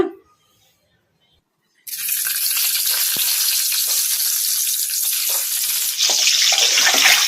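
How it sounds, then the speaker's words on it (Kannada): Eggs dropped into hot oil in a kadai, stirred over medium flame: after a near-silent start, a loud hissing sizzle erupts and holds steady up close, swelling brighter near the end. "ಮೊಟ್ಟೆಯನ್ನು ಮೀಡಿಯಂ ಫ್ಲೇಮಲ್ಲಿ ಈ ಥರ ಕಲಿಸ್ಕೊಂತ ಫ್ರೈ ಮಾಡ್ಕೋಬೇಕು"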